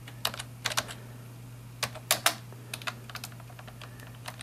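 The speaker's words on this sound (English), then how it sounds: "I usually touch type" Keys on a computer keyboard clack in short irregular bursts of quick taps with pauses between, close and clear over a steady low electrical hum.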